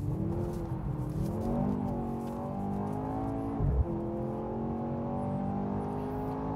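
A Mercedes C 43 AMG engine revs up steadily inside the cabin, its pitch rising, dipping sharply at a gear change, then climbing again.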